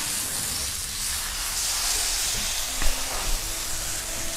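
Prime rib searing in a hot pan, a steady broad hiss of sizzling fat that rises slightly with a couple of brief louder spits, with no voices.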